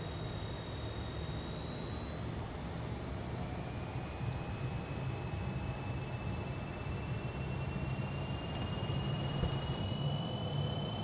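Fokker F28 jet engines spooling up to takeoff power in a flight simulator, a steady loud broadband roar with rising whine tones holding throughout, no talk over it.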